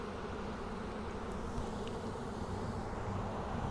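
Dense, continuous buzzing of many package honeybees being installed into a hive, steady and close, with no pauses.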